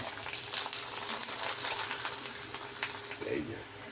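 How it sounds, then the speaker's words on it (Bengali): Sago papad fries in a pan of hot oil with a soft, crackling sizzle that keeps up throughout, with a brief low murmur near the end. "এটা সাবুর পাঁপড় ভাজছি"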